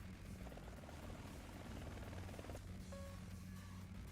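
A Mi-28 attack helicopter in War Thunder, heard as a steady, continuous rotor and engine drone, quiet overall, with a brief tonal game beep near the end.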